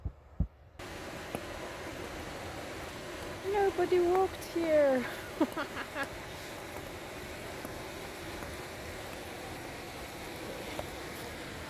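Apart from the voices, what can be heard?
rumbling of a river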